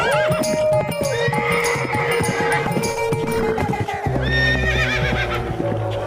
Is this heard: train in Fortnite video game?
no